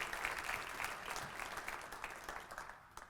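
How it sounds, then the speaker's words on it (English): Audience applause for commissioners at an annual human rights awards ceremony, a steady wash of clapping heard from a distance at low volume, tapering slightly near the end. "let's give them a round of applause for their visionary"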